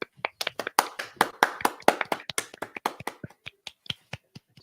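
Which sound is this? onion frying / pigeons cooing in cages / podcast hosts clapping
podcast hosts clapping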